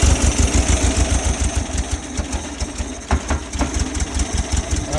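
A 1970 VW Bug engine idling, a loud, close, rough pulsing rumble with an uneven, slightly stumbling rhythm and a ticking mechanical clatter running steadily throughout.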